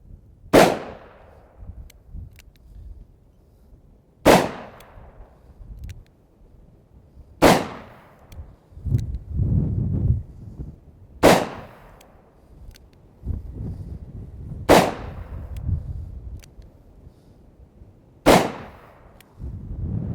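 Six loud, sharp shots from a Smith & Wesson 686 .357 Magnum revolver firing Hornady ammunition, spaced evenly about three to four seconds apart, each with a short ringing decay and low rumble between.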